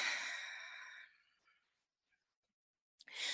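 One long deep breath is exhaled softly and close, fading out into near silence, followed by a brief new intake of air at the end.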